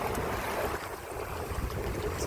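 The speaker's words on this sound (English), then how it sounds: "the wind is so good, we've cut the engine and set the sails." A small sailing dinghy moves under sail with the engine off on Lake Te Anau, New Zealand, giving a steady wash of water and wind noise, soft and continuous, with no voices.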